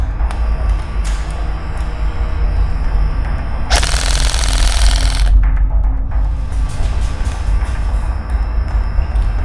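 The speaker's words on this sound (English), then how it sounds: "so that locks the bolt back" A KWA RM4A1 prototype airsoft rifle fitted with a standard 30-round ERG magazine gives a loud, broadband mechanical burst of about a second and a half midway through, over a steady low background hum, with no talking.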